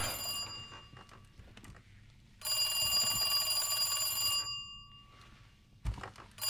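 A telephone in the video game Resident Evil 2 rings in one long bright metallic bell burst, set among quieter clanks and thuds of play, with no talk.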